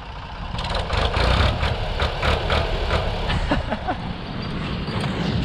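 A Ford 3000 tractor engine revs nearby, giving a loud, steady diesel drone with a rough mechanical rattle that holds for several seconds, with no talking.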